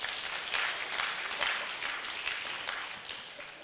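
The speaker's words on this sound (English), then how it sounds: "I think he deserves a round of applause for that." Faint applause from an audience at a book launch event, a soft continuous patter of clapping heard at a distance.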